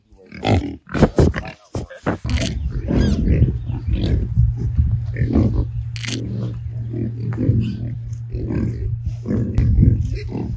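Pigs grunting and squealing up close, rough snorts and snuffles in irregular bursts, with people talking intermittently over them.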